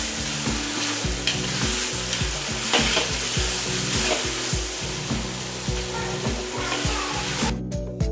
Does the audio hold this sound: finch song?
no